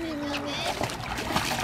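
Children splash and play in outdoor water on a summer day, with sloshing and splatters close by under a child's speech and nearby voices throughout.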